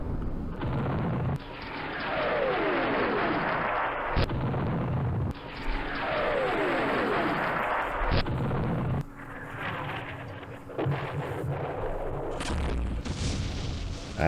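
Repeated mortar shots from a war strategy game land as loud explosive booms every couple of seconds, some followed by descending whistling debris sounds, with a sustained rumble between impacts.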